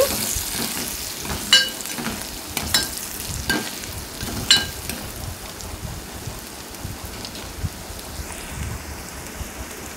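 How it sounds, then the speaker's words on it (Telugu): A ladle stirs chopped onions with turmeric and salt in a hot pan, giving a steady scraping, sizzling texture with a few sharper clinks against the pan, close and moderately loud, with no voices. "ఇప్పుడు పసుపు, ఉప్పు ఉల్లిపాయలో బాగా కలిసే విధంగా గరిటతో కలిపేసుకుందామండి."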